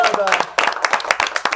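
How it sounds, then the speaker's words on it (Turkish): A short burst of audience clapping for Dorukcan at a Turkish rap show, scattered claps mixed with a voice talking over them. "Evet bir alkışla Dorukcan'a."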